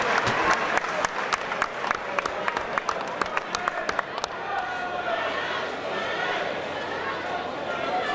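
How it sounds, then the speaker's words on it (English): Crowd applause and scattered claps from spectators at an amateur MMA cage fight, loud sharp clapping in the first half thinning into steady crowd murmur and cheering. "One more round of applause, everybody."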